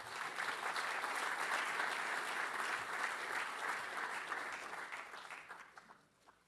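Sustained audience applause fills a conference room as panelists are welcomed to the stage at a real estate event, holding steady and dense before fading out toward the end.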